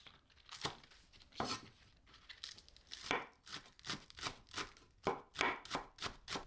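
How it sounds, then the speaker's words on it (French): A green onion being sliced with a knife on a cutting board, a series of crisp, close chopping strokes in an uneven rhythm, about a dozen cuts, with no talk. "J'émince une cébette."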